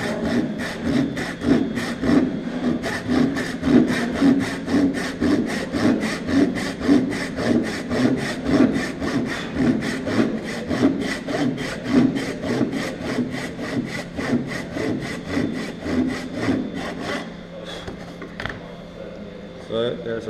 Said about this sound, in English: as it cuts it should be lowering the saw down towards